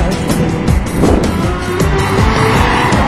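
Minibuses and trucks rush past on a roadside near a university in Muğla, a loud, continuous roar of traffic with tyre noise and engines swelling and fading as vehicles go by close at hand.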